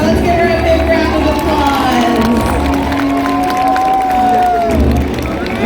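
A large crowd at SeaWorld San Diego's orca show cheers and applauds continuously, a loud, dense roar of clapping and shouts that fills the arena, with a presenter's voice speaking over it.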